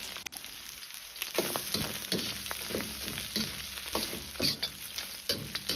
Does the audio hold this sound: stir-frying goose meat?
yes